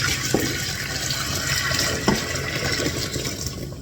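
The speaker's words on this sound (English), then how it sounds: "pour the stock back in the pot." Soup stock poured from a container back into a cooking pot in a home kitchen, a steady liquid pour with a couple of brief clinks, no talk.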